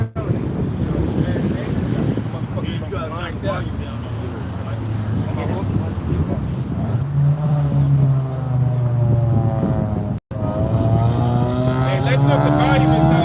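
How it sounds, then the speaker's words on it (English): Strong wind buffets the microphone in a constant low roar, with a voice talking underneath. "it's kind of windy out here"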